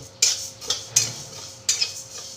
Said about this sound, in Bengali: মুগ ডালটাকে আমি অল্প একটু ভেজে নেব